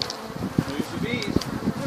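Bees being moved into a hive during a removal buzz thickly at close range, a continuous droning hum with small knocks and rustles mixed in.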